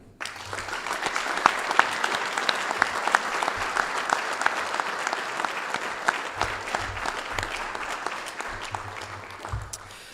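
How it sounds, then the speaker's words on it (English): A crowd at an athletic hall of fame induction ceremony applauds steadily for the whole stretch, dense clapping that stays loud and even before easing slightly at the end. "give one big round of applause"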